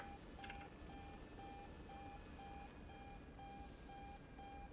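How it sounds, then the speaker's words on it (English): A helicopter warning tone in Arma 3 beeps steadily in short, evenly spaced pulses, about ten in a row, faint over a constant rotor and engine rumble. "If you hear beeping, that's just an aesthetic feature."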